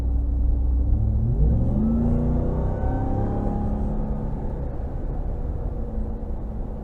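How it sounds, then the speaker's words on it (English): A 2022 Ram TRX pickup truck's engine rises in pitch as it accelerates hard, a deep rumbling roar heard from inside the cab that settles into a steady drone. "When I put my foot into it, it kind of tries to go into sport mode."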